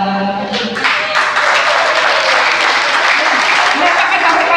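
A church congregation claps steadily and loudly in a dense, continuous wash of hands, with a faint voice at the start before the clapping takes over.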